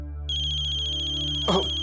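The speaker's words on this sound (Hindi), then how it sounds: "फोन।" An electronic phone ringtone starts and rings steadily at close range, with a brief rustle near the end.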